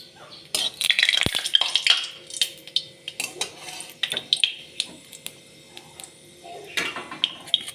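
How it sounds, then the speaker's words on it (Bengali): Dried red chillies and black cumin fry in hot oil with a busy crackle, overlaid by metallic clinks and scrapes of a utensil against the pan. "এরপরে দিয়ে দিলাম শুকনো লঙ্কা, তারপরে দিয়ে দিলাম কালো জিরে"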